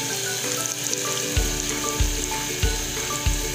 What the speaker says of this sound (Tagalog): habang niluluto natin yung ating lugaw, ituin na natin yung ating tokwa